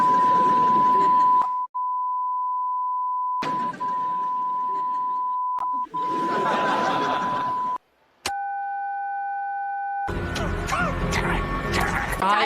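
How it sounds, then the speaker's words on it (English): A steady telephone dial tone hums beneath voices for several seconds, then a two-pitch dial tone sounds alone before louder mixed sound takes over. "Dial tone."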